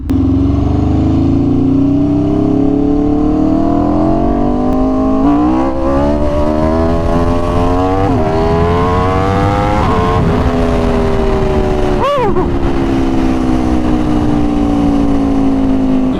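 An Aprilia RSV4 Factory motorcycle revs hard during a wheelie, its loud engine note climbing steadily in pitch, briefly dipping and surging again, close and continuous with no talking.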